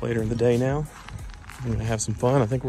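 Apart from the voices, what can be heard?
No everyday noises stand out.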